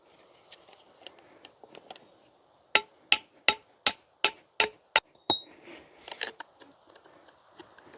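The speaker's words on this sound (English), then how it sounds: "We'll hammer this one home," A hammer drives a fitting into a connector during farm garage work, giving about seven sharp, evenly spaced metallic strikes close by, followed by a brief ring and scattered softer clatter.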